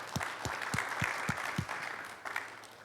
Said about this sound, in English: So if we could give Greg a big round of applause for all that he does.